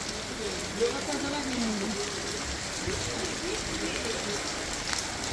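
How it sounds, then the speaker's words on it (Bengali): Steady rain falls outdoors during the first shower of the year, a dense even hiss and patter running throughout, while a person talks over it. "এখনো বৃষ্টি পড়তেছে ঘুরা ঘুরা"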